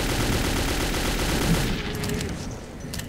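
AK rifle gunfire in the video game Metro 2033, a dense rapid automatic burst close and loud, thinning into a few scattered shots toward the end.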